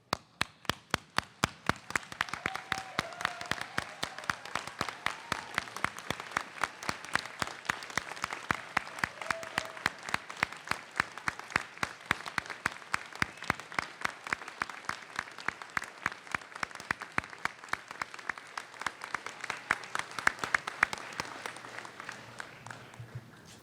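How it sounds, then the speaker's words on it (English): Graduates and guests at a 2019 university convocation ceremony give a sustained round of applause, steady dense clapping from a large seated crowd that lasts the whole stretch and fades slightly at the end. "Stand up and give them a huge round of applause."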